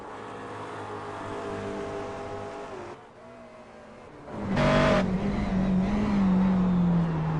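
Race cars in a racing game, a Daytona prototype and a McLaren GT3, give a steady engine drone that dips briefly, then swells into a louder, rising rev as one car comes close.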